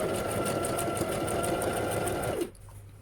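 A Brother LX27NT sewing machine stitches a one-step buttonhole, running in a steady, fast mechanical whir with a rhythmic needle pulse. It stops abruptly near the end, leaving a quiet room.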